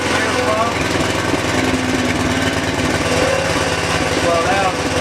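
A Tecumseh tiller engine runs steadily and loudly up close, its small-engine drone holding a constant level with faint tonal rises as the throttle is opened, while a voice speaks over it now and then.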